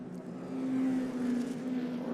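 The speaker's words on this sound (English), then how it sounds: "As the McLaren carries on around" A McLaren race car lapping a circuit at a historic motor racing festival, a steady engine drone with a sustained tone rising slightly as it passes, moderately near.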